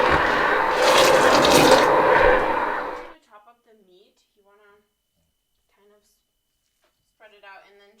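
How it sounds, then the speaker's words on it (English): Meat broth poured into wheat for Persian haleem, a loud close gush of liquid for about three seconds that stops abruptly, followed by near silence with brief soft speech. "So now we're adding all of the broth into the wheat."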